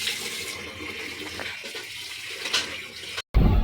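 Water runs and splashes steadily as fish are washed in a basket, a close hissing flow that shifts in intensity and cuts out briefly near the end before resuming.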